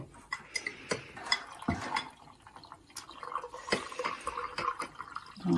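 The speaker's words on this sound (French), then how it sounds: "On va rajouter un petit peu d'eau." A small amount of water poured or dripping into a vessel while making a steamed Christmas cake, heard as scattered light drips and splashes with faint glassy ticks, close and quiet.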